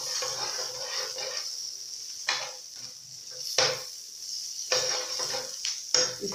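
Margarine melting and sizzling in a frying pan before scrambled eggs go in, a steady close hiss punctuated by several louder scraping bursts as it is stirred around.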